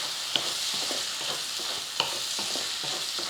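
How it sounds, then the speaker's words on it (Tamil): Mutton fry with coriander and curry leaves is stirred in a pan, giving a continuous close sizzle with repeated scraping strokes and two sharp clinks of the spoon. "கொஞ்சம் மல்லித்தலையும் கருவேப்பிலையும் தூவிட்டு நல்லா கலந்துக்கிட்டு இறக்கிடுவோம்"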